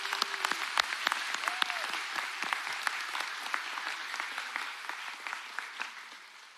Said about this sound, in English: Let's give them one more last round of applause